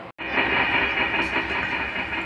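A train pulls away from a platform with a steady, loud rumbling hiss that holds evenly after a brief cut at the start.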